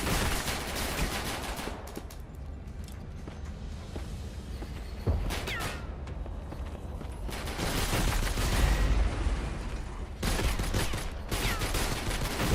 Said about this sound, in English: of course I'm getting hit by mortars